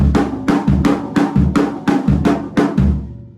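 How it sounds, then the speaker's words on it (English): A fast, punchy D-beat alternates deep kick thumps with sharp snare cracks, loud and close, about a dozen hits in quick regular rhythm. "With just kick and snare, it sounds like."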